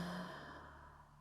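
A long, soft exhale during yoga breathing practice, a steady breathy sigh that fades gently over about a second, close and quiet.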